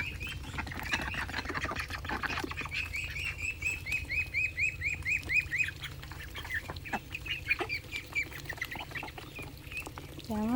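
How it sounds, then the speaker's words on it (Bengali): Hungry ducks quack in busy, overlapping bursts as they gobble mixed feed, with bird chirps around them and steady low background noise. No one speaks. "কত খিদে পেয়েছে ওদের, দেখো কি তাড়াতাড়ি খাচ্ছে"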